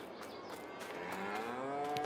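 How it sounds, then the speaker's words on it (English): Cows mooing in the video game Farming Simulator 22, a long drawn-out low moo rising and swelling over about two seconds, moderately loud over a faint ambient background. "The cows over here."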